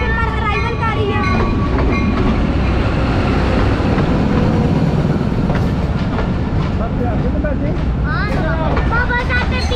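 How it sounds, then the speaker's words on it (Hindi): A train hauled by locomotive ZQ26401 arriving at Golra railway station, a loud close rumble of rolling wagons with screeching wheel squeals, under voices talking nearby. "ZQ26401 के साथ 14 डाउन रेलवे स्टेशन पर अराइवल कर रही है।"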